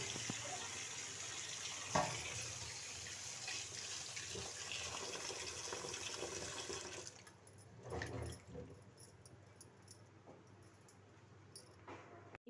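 Okra washed under a running kitchen tap: a steady broadband water stream for about seven seconds, then quieter splashing and handling of the wet pods, close and alone without talk.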